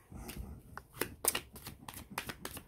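Tarot cards shuffled by hand at close range, a quick run of soft riffling bursts and light slaps, quiet and unaccompanied by talk.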